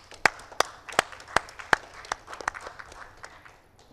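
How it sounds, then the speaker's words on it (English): An audience at an Internet Governance Forum pre-event gives scattered applause: several sharp, distinct handclaps ring out close by, then thin into lighter, uneven clapping that fades. "Let's give a round of applause for Daniel."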